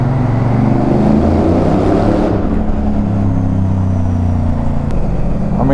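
Motorcycle riding through a London tunnel, its engine a loud steady drone with low rumbling harmonics that shift in pitch, echoing continuously with no talk.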